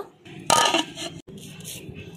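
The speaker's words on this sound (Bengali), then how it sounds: "এবার আমি ঢাকনাটাকে চাপিয়ে দেব" A lid lands on a patila pot holding beef paya boiling in water, one sharp metallic clank followed by light rattling and scraping, close by.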